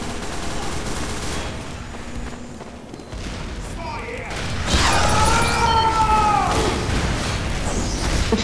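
Sentry gun fire in the Team Fortress 2 shooter game, a dense sustained burst of rapid shots that grows louder midway and keeps going, mixed with other game noise.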